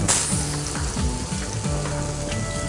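Prawn-stuffed pomfret sizzles loudly in a hot pan just after being flipped, a steady close frying hiss with bursts of crackle and scraping, no voices.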